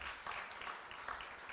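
A church congregation applauds in a brief, moderate burst of clapping, heard somewhat distant and even in level.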